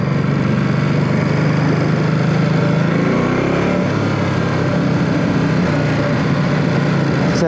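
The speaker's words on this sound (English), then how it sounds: "You can feel the engine vibrating a little bit more, which I like" A Ducati Supersport S motorcycle with a 939cc engine runs steadily close by, a loud continuous engine drone with a brief rise and fall in revs midway, with no voices.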